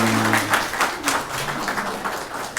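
Congregation clapping at a church dedication service, a short burst of scattered applause that fills the room briefly while a few voices murmur underneath.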